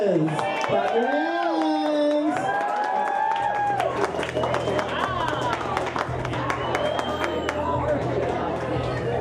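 Audience applause and cheering at a pageant, a dense crowd clapping that runs steadily throughout, with a voice speaking over the opening seconds.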